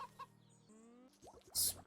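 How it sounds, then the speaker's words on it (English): Chickens in the video game Wytchwood give a few short clucks amid light game effects and chimes, ending in a brief louder flurry. "Squeeze the chickens for some eggs while I'm here,"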